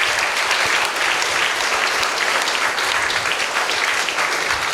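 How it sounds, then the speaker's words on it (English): A lecture-hall audience applauds a student's answer, steady dense clapping from many hands filling the space at even loudness throughout. "I think all of us need to applaud to this wonderful answer."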